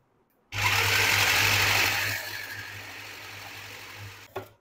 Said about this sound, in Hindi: तो 1 किलो बीफ कीमे को हम चॉप कर लेंगे